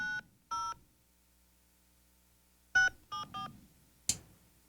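Telephone keypad tones entered to punch in a phone number on an automated line: five short, clear DTMF beeps in two quick groups with a long pause between them, then a sharp click.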